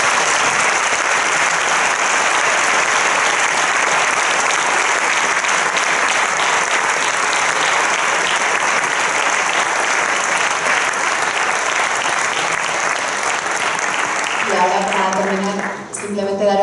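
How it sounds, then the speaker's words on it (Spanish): An audience at a lay Catholic gathering breaks into sustained applause, dense clapping that fills the room for about fifteen seconds before fading, with a voice starting to speak at the end. "le podemos dar un aplauso si queréis"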